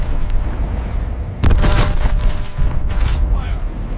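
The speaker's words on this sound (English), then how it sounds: "The 123mm cannon erupt." A heavy boom from an M1A2 Abrams tank's cannon bursts out partway through, followed by a second blast, over a constant rumbling background and faint voices.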